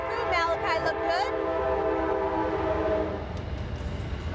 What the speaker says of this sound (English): Christine, I heard absolutely nothing you said because of the latest train that came through Cowpens